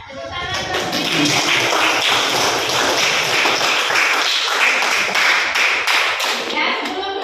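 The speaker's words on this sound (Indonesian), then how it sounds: "Ya, tepuk tangan." A classroom of pupils claps hands together at the end of a lesson, a dense, lively patter of close claps running steadily throughout, with children's voices faintly mixed in.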